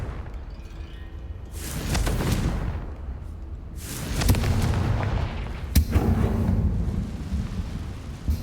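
Confringo fire spell blasts from the Hogwarts Legacy game, three loud booming bursts roughly two seconds apart, each with a crackling, rumbling tail over a low background drone.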